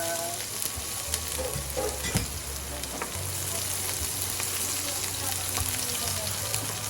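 Chopped onion and garlic fry in hot cooking oil in a pan, giving a loud, continuous close sizzle with small pops and crackles throughout.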